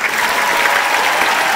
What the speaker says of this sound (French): Attention, applaudissements.